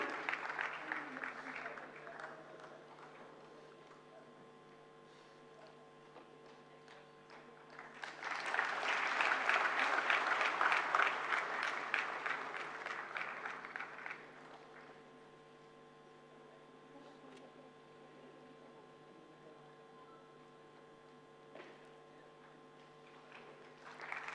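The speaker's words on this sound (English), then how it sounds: "can I hear a roaring round of applause?" At an intellectual property conference award ceremony, an audience bursts into a swell of applause that builds and fades over several seconds, framed by stretches of quieter hall sound, with a speaker's amplified voice before and after.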